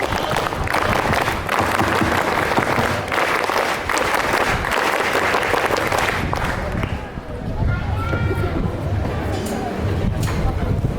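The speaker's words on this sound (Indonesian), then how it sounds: "Dua kali tepuk pramuka." A scout troop at an induction ceremony performs a rhythmic group scout clap in two rounds, loud and crisp, with a short break between the rounds and crowd noise around it.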